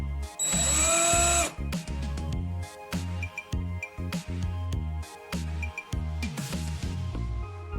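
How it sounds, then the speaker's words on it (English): A power drill with a depth stop fitted on the bit whirs loudly, a high revving burst followed by repeated short whines and stops as it bites into material, close up. "Now you can drill holes to the required depth"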